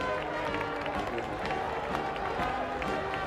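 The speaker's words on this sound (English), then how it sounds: "Very enthusiastic crowd here at Worcester" Cricket crowd at Worcester streaming onto the ground after an Australia v Scotland World Cup match, a broad roar of distant cheering and shouts with scattered clapping and footfalls, overlaid by a commentator's voice.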